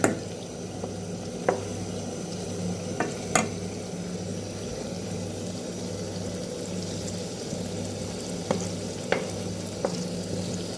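Tomato, pepper and onion sizzle and fry steadily in a pan while being stirred, a constant crackling hiss broken by occasional sharp clinks of the utensil against the pan, with no talking.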